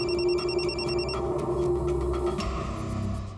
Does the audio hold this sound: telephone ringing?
yes